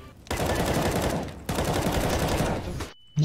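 Two long bursts of rapid automatic gunfire from the video game CS:GO, loud and close, separated by a short gap, with a sharp click at the end.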